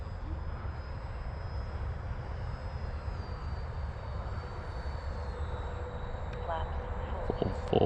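An Eflite Viper 70mm RC jet plane whines steadily overhead on its landing approach, a sustained high-pitched ducted-fan drone that shifts slightly in pitch as the throttle changes.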